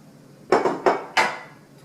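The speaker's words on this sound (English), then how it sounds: "I'm going to gently add back the mussels." Cooked mussels tumble back into a pan of strained cooking broth for mussels with linguine, giving three or four close, clattering shell knocks in quick succession over a quiet kitchen background.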